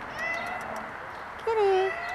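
A cat meows nearby at a fence by the LA River: a brief high call, then a longer, louder meow that slides downward, with soft background noise between.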